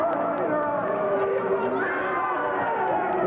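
Wrestling arena crowd at a 1993 NCWA match between the Yates Gang and the Heartbreakers, cheering and chattering continuously beneath an announcer's voice.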